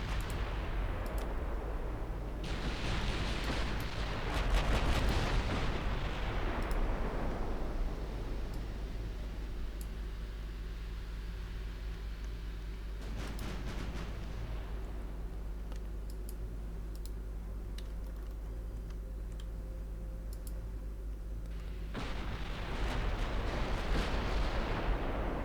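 Warship guns firing in the naval battle game Ultimate Admiral Dreadnoughts, ships engaging at about 25 kilometres: a few heavy, rumbling salvos with long decaying booms, separated by quieter stretches with faint clicking.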